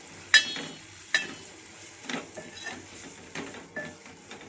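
A spoon clinks and scrapes in a dish while Kashmiri chili powder, turmeric and garam masala are mixed for a Malvani fish curry, a few sharp taps spaced out between soft stirring scrapes, close and fairly quiet.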